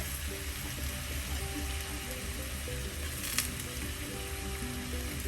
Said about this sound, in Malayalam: കറിവേപ്പില എല്ലാം ചേർക്കാം നന്നായി ഒന്ന് വഴറ്റാം